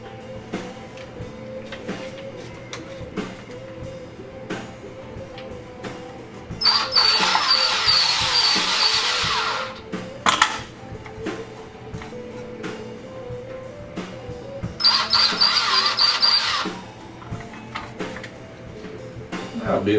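A countersink bit deburrs a drilled hole in a robot's antenna panel, two separate bursts of high, scraping whir lasting a few seconds each over a quiet background with faint talk.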